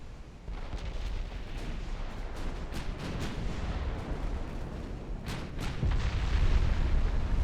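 Warships' main and secondary guns fire in a naval battle in the game Ultimate Admiral Dreadnoughts, a sustained rolling barrage of booms and distant cannon reports layered into a continuous heavy rumble that grows louder toward the end.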